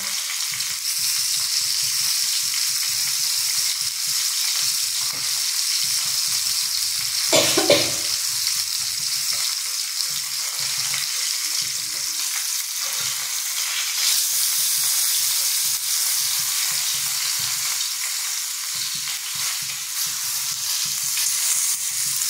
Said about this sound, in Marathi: आपले मासे भाजत आलेत, खरपूस झालेत ना.